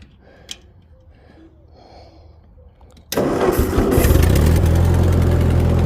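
An 80-year-old Ford 2N tractor engine cranks and fires up abruptly partway through, then settles into a loud, steady running roar after a quiet stretch with faint rustling.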